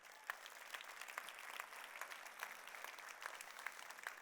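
Dense, steady applause from a large university audience at a State of the University Address, sustained clapping heard at some distance in a big hall with no talking over it.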